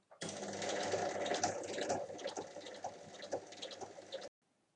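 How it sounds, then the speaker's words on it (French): A sewing machine stitches a straight line on a fabric bag, a close, continuous rapid whirring and clatter lasting about four seconds before stopping abruptly. "Et je viens piquer sur ma ligne."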